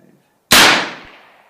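Evanix Viper .25 caliber airgun firing a single sharp, loud crack on a range day, cutting off fast into a short trailing echo after a moment of quiet.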